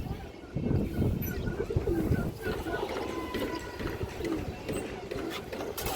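Domestic pigeons on a pigeon farm make soft, low cooing calls that repeat irregularly over a busy background murmur, fairly near but not loud.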